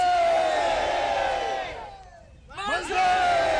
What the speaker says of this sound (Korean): 독립을 향한 함성이 다시 충무교회에서 울려 퍼졌습니다.